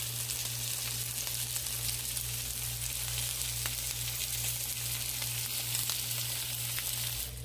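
Sausage patties frying in a pan, a loud continuous sizzle with a steady hiss and small pops, constant throughout and with no voices.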